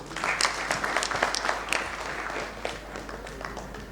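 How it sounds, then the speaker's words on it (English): Architects and interior designers at an evening design debate in Indore clap together, with sharp individual claps standing out at first before the applause thins and fades over a few seconds. "Let's have a big round of applause for each one of us."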